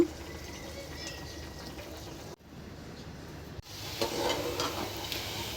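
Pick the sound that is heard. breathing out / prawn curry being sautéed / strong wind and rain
prawn curry being sautéed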